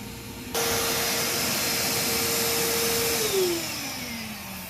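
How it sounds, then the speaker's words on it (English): A vacuum sweeper switches on and runs with a loud, steady roaring whoosh and a sustained motor tone that drops in pitch near the end, with an air conditioner running underneath. "you can hear it's with the air conditioner running, it's kind of hard to hear the sweeper."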